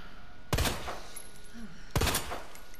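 Two sharp gunshots from a handgun in Resident Evil 2, about a second and a half apart, each with a short ringing tail over low background game ambience.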